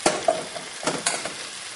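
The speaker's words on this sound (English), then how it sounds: "And then in goes the reserved meat and onions from earlier, along with their juices." Reserved meat and onions with their juices going into a steak and ale stew pot, giving a soft wet sizzle broken by several quick scraping stirs and clinks, moderately close.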